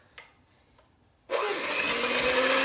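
After a near-quiet start with a couple of soft knocks, an electric mixer fitted with a whisk attachment roars on abruptly to cream butter and sugar, a loud, steady whir holding to the end.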